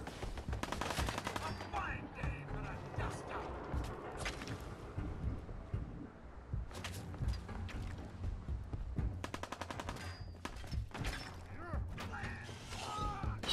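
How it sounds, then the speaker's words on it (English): Gunfire in the video game Fallout 4: repeated bursts of rapid shots and machine-gun rattles over a dense game soundscape with metallic clanks, loud and continuous throughout. "I don't know who's shooting."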